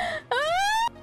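A human voice imitates a duck or goose with a short nasal honk, a brief pause, then a longer rising quack-like call, close and alone.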